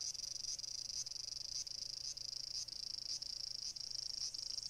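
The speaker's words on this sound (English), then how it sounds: "The cicadas are giving the delightful song as loud as ever." A shrill, continuous insect buzz pulses in a steady rhythm, sounding like cicadas droning nearby with faint low hum beneath.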